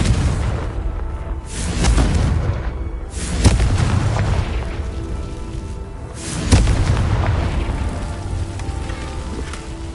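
Spell explosions from the Confringo fire curse in the video game Hogwarts Legacy sound as loud, deep booms, one after another over about ten seconds, against a rumbling, crackling background.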